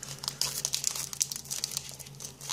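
Plastic wrapping around trading cards from a Pokémon Diamond & Pearl booster display crinkles and crackles loudly and continuously at close range, with no talking.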